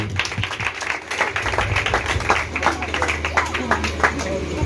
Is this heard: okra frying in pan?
no